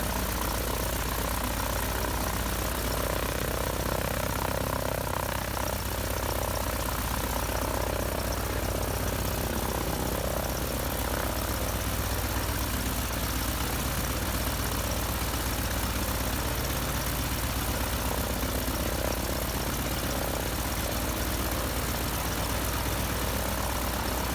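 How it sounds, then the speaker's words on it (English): A vintage radial aircraft engine, started with an inertial starter, holds a steady, throaty idle: a continuous loud rumble with a deep low-end drone, unbroken throughout. "After priming and engaging the inertial starter, the engine coughs, belches smoke, then settles into a throaty rumble."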